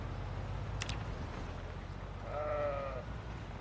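A stressed sheep in the game Project Zomboid gives one short wavering bleat over a low rumbling field ambience, with a brief sharp chirp just before it.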